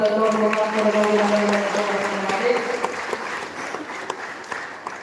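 Loud applause from an audience at a devotional gathering honouring a Kannada spiritual guru, a dense continuous clatter of clapping filling the room with sustained tones underneath, gradually thinning toward the end.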